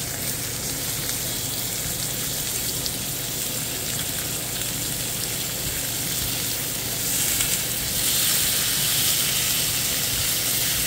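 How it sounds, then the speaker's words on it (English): Lamb chops sear in a hot pan, giving a steady, dense sizzle with crackling spatter that swells slightly louder toward the end, with no voices. "We're definitely getting a searing effect there."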